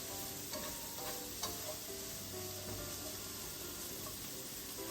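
Onions frying in a pan on medium heat for pollo con crema, a steady close sizzle with occasional stirring scrapes, continuous and fairly soft, with no talking.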